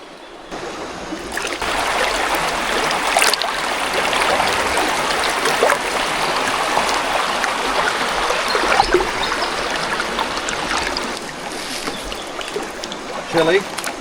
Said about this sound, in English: This is nice, though, with the water flowing.